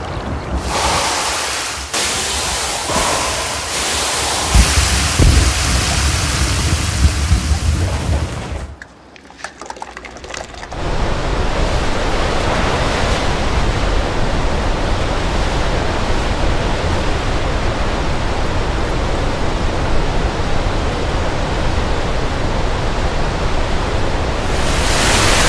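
Colossal waterfalls in Iceland pour with a dense, steady roar that fills the whole clip. The roar dips briefly about a third of the way in, then returns at full strength.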